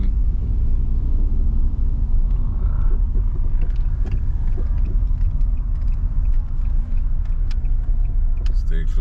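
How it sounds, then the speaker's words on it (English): A car rolls forward in a parking area during a Florida driving test, a steady low engine and road rumble heard from inside the cabin, with faint speech under it. "Put it in drive, go forward."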